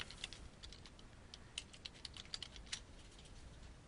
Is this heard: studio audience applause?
no